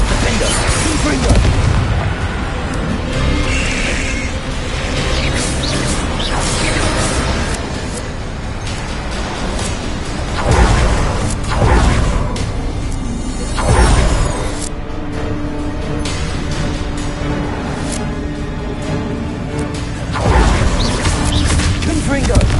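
Confringo spell blasts burst repeatedly in the Hogwarts Legacy video game amid a loud, chaotic magical battle, several heavy booms standing out over constant crashing and clatter, with voices calling out spells.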